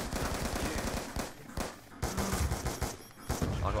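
Bursts of automatic gunfire from a Black Ops 2 first-person shooter game, dense and rapid across the whole stretch, with a few brief gaps between the bursts.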